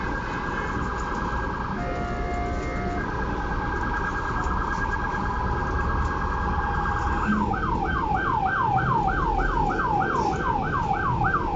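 Fire truck siren stuck in Red Hook traffic, heard from aboard a crowded B57 bus: a distant steady wail, then a rapid repeating yelp cycling over constant road and engine rumble.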